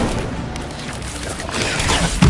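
Hogwarts Legacy's Incendio fire spell going off, a rushing roar of flame that swells and ends in a heavy, punchy boom, loud and close within a brief burst of game effects.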